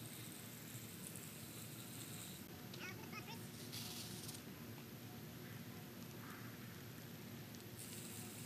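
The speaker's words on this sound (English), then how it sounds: "And it's starting to rain." Rain falls steadily on a lawn, a soft continuous hiss close by with a brief scuffing noise partway through.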